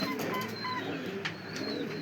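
Soft cooing of pigeons in a fancy pigeon loft holding helmet, fledger, magpie and other breeds, low murmuring coos continuing steadily under faint higher chirps.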